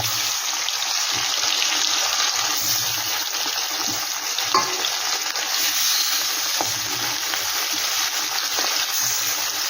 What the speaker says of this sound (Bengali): এই মাছগুলো কিন্তু খুব একটা কড়া ভাজবো না